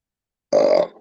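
A single loud, close burp after drinking brandy mixed with grape, gummy bears and dollar-store French fries, opening abruptly and rumbling for about half a second before trailing off.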